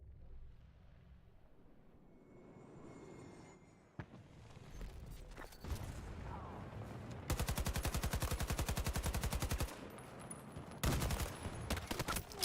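Rapid automatic gunfire in the video game Battlefield 2042, with dense sustained bursts and a brief second volley following scattered shots and explosive thuds, loud and close throughout.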